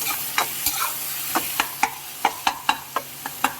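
Tomatoes with green chillies and spices fry in a pan over medium flame, a steady sizzle punctuated by a dozen sharp spoon scrapes and taps against the pan at an uneven rhythm.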